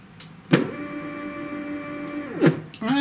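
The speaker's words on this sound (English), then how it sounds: "see if the motor turns." A CNC stepper motor whirs steadily for about two seconds with a sharp start and stop, then spins again briefly, close and clear with no talking.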